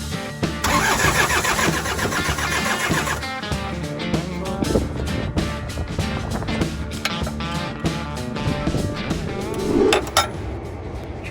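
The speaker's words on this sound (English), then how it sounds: "I'm trying to get this tractor started for about 3 hours." A tractor engine cranks over and over while trying to start, a loud, steady churning run of rapid mechanical pulses that carries on without a break and with no one talking.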